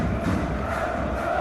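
Large football stadium crowd roaring and cheering steadily, a dense, continuous wall of voices with no break, as PSV push for a comeback.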